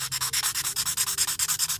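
Fast, steady sanding of a clear styrene plastic edge with fine sandpaper, a rhythmic scratchy rasp repeating about eight times a second, close and fairly loud with no voices.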